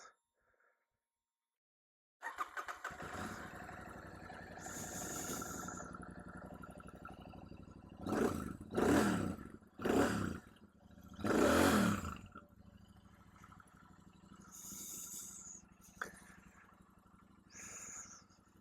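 Royal Enfield Super Meteor 650 air-cooled parallel twin motorcycle starting after a short silence, then idling steadily, with several louder throttle blips in the middle, heard close up.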